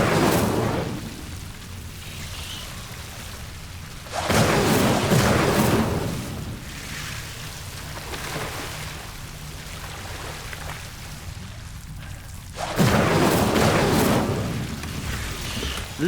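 Incendio fire spell cast in the video game Hogwarts Legacy, two loud whooshing fire bursts separated by a stretch of quieter ambient game noise.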